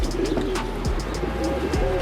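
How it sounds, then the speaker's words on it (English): Pigeons softly cooing inside a pigeon coop with nesting squabs, low repeated coos over a steady background hum, fairly close and even in level. "the pigeon coop scene. You got squeakers nesting squabs."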